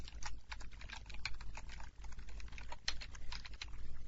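Rapid, even keystrokes on a computer keyboard, close and continuous, as code is entered with no speech over the clicking.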